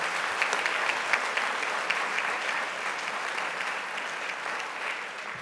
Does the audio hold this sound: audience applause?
yes